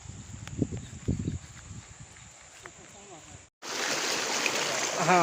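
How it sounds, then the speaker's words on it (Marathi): Water flowing in from a field rushes with a steady, sea-like roar that swells suddenly after a brief silent gap, following a stretch of voices over quieter background water. "समुद्रासारखा आवाज येतोय."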